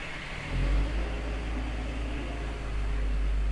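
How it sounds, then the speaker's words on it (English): A loud truck rumbles past close by, a heavy low engine roar swelling after a brief quiet start and holding steady with broadband road noise, no talk. "it's a fucking loud ass truck"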